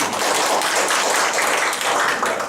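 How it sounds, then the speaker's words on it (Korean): A classroom audience claps in a dense, steady burst of applause that holds evenly throughout, close and fairly loud with no talk over it. "박수 한번 주시죠"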